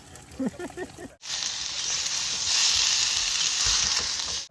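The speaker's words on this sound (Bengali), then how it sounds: "ঝোল কিন্তু ফুটে এসছে" A pot of fish curry with bhetki fish, eggplant, potato and tomato bubbles with a loud, steady sizzling hiss at close range, following a short stretch of quiet talk by a cook.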